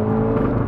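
A Volkswagen Golf hot hatch engine revving hard, a loud, steady, close roar that holds at high revs throughout without any talk.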